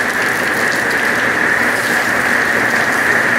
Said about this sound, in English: Just rain and light gusts.